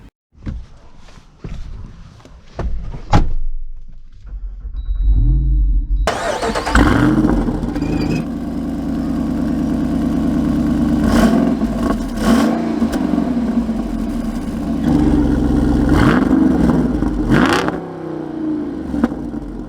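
Jeep Wrangler Rubicon 392 V8 starting up close after a few clicks and footsteps, the loud crank catching into a deep idle, followed by two sharp revs that rise and fall over a steady rumble.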